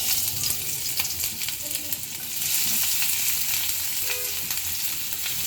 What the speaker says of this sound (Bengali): প্রথমে আমি ভাজিটা করে নিব, সিম আর আলু ভাজিটা